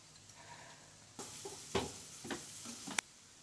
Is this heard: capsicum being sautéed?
yes